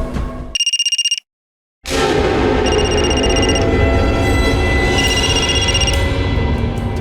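A telephone rings loudly during a crime drama scene: a short burst of electronic trills, a brief silence, then a longer run of repeated rings over a steady background hum.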